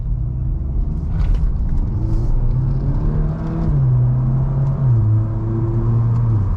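A VW MK8 Golf R in sport mode with ESC off accelerates through a corner, its engine note rising steadily in a continuous loud rumble and whir heard from inside the car, with a gear change partway through.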